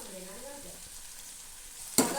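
Tomato with salt and garam masala frying in a pan, a soft continuous sizzle with faint stirring scrapes and a sharp clatter near the end.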